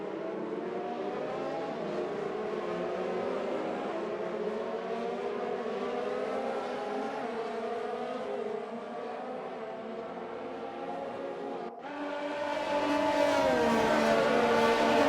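Race cars roar continuously in an Xbox racing game at the French Grand Prix, engine tones sweeping and layered as cars pass, with a sharp cut and a louder, rising engine note near the end.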